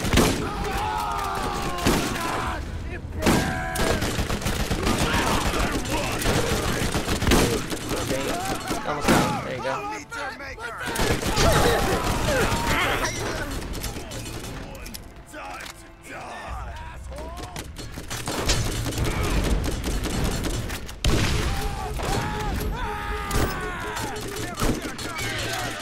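Heavy gunfire in Borderlands, dense bursts and thuds rattling almost continuously for the whole stretch with a few short gaps, loud and close, with people talking over it at times.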